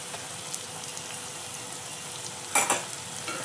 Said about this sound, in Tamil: இஞ்சி பூண்டு பேஸ்ட்டு போடுறேன்